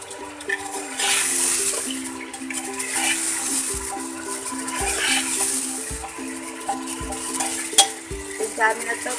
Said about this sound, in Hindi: तो 4 मिनट तक हम इसको भून लेंगे, गोश्त को लहसुन के साथ।